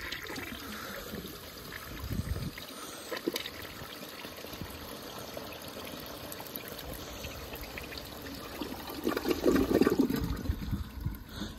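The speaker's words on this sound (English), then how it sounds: "Not even gonna bother flushing that again because it's literally just gonna clog." A 1984 Eljer Emblem toilet with a rust line in the bowl flushes, a close rushing and gurgling drain that swells loudly near the end before trickling.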